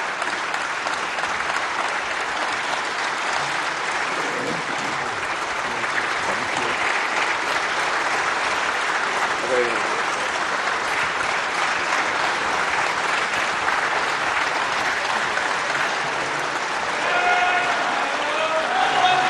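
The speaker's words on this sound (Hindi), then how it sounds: "पूरा सदन तालियों की गड़गड़ाहट से गूंज रहा था" Thunderous sustained applause fills the Indian parliament chamber after the NDA's Lok Sabha Speaker is elected, a dense steady roar of many hands with crowd noise lasting throughout, swelling slightly near the end.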